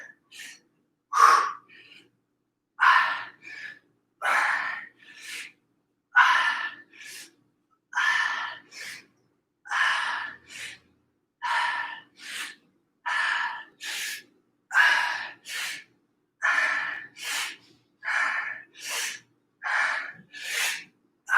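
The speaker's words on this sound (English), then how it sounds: "Breathing in, breathing out on the way up, breathing in on the way down." Heavy breathing during a glute workout exercise comes in loud, close exhales repeating in a steady rhythm, roughly one every second or so, with near silence between breaths.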